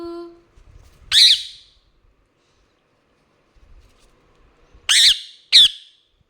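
A pet parakeet gives three sharp, loud squawks, one early and two close together near the end, with quiet gaps between them.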